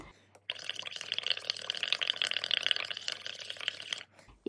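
A bone folder stirs a mixture of dish soap and water for bubble art, giving a close, fizzy, wet clicking and bubbling sound that runs steadily for a few seconds before stopping.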